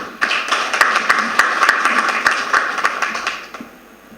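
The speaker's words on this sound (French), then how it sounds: "Merci infiniment à la presse et acclamez-les très fort." An audience at a development-programme evaluation workshop claps for the press, a dense run of hand claps at a brisk rhythm that rises quickly, holds for about three seconds, then thins and fades out.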